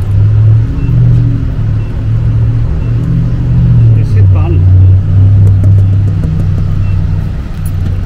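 A car engine drones steadily at close range as the vehicle drives, a low, even rumble that holds throughout with slight swells and no clear break.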